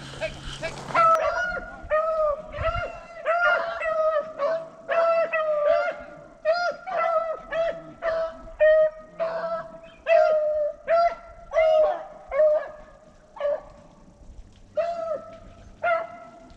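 Rabbit hunting dogs bay and bark on a rabbit trail through a South Carolina thicket, giving a steady run of rhythmic, repeated voices that carry clearly over the whole stretch.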